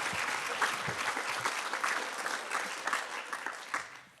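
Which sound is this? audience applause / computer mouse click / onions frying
audience applause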